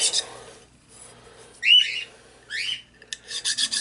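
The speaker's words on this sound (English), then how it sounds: "And I'm rotating it as I'm filing it, trying to keep it even." A rusty metal file rasps against a coin ring being rotated, producing short, bright scraping strokes in separate bursts with quiet gaps between, heard up close.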